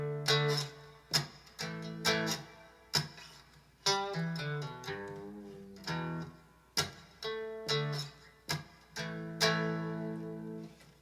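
Cigar box guitar picking out a classic rock riff at a slow tempo, plucked notes and short strummed bursts in a repeating pattern, fairly quiet and close, no voices over it.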